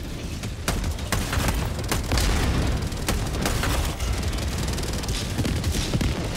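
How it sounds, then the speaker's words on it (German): Explosions from an orbital strike in the video game Helldivers 2 rumble and boom repeatedly, a loud, dense barrage of heavy low blasts and sharp cracks that continues throughout. "Ah, Explosion. Ah. Da kommt der Explosion."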